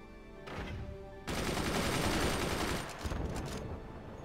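Machine gun fire in the strategy video game Forts, a dense sustained burst of rapid gunfire that starts abruptly, holds loud for a couple of seconds and then thins into scattered shots over steady game noise.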